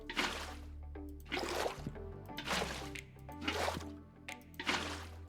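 Water flowing and splashing as it is placed in Minecraft Skyblock 1.20, a looping liquid slosh that swells in several waves over a low steady hum, heard alone and fairly close.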